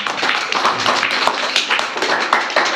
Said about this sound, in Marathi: यांच्यासाठी टाळ्या वाजवायच्या.